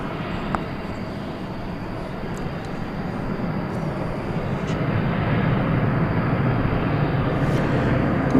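Airplane arriving at DFW Airport from San Antonio, Texas at night, a broad distant jet rumble that slowly swells louder over several seconds, steady with no talk.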